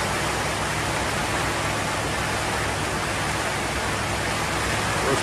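Heavy rain during a boat trip on the Intracoastal Waterway near Southport, North Carolina, a dense, steady, loud hiss of downpour filling the whole stretch without a break, no talking.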